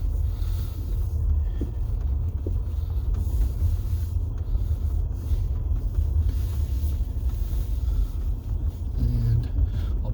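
Jeep Gladiator pushing partway through a snowdrift, a dull continuous engine and tyre rumble with wind buffeting the microphone and a few faint knocks, no clear speech.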